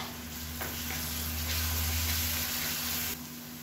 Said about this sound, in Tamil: மீடியமான ஃப்ளேம்ல வச்சு வதக்கி விட்டுக்கலாம்.